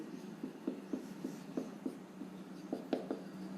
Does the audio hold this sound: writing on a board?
yes